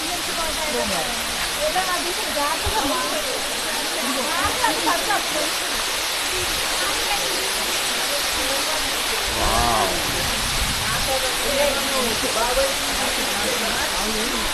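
The Paladhara Panchadhara waterfall at Srisailam roars as a steady, loud rushing of water, with people talking faintly underneath.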